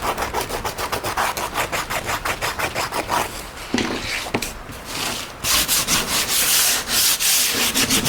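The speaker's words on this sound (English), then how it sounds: "A little sandpaper, get my edges all cleaned up." Sandpaper is rubbed briskly along the cut edges of a homemade car door trim panel, giving close, rhythmic scratchy strokes in a steady back-and-forth pattern, with a few brief pauses and knocks.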